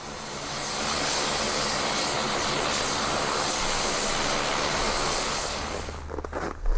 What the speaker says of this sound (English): the airplanes are the only way in and out.